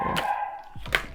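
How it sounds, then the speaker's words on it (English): Dogs barking indoors during a tarot reading, a few short sharp barks at moderate distance with no talk over them. "Excuse my dogs, they want to be part of this reading a little bit."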